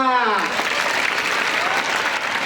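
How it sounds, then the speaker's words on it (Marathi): A student audience at a guidance talk claps loudly together, a dense, sustained burst of applause filling the whole moment, close and strong from start to finish. "जोरात टाळ्या वाजवा"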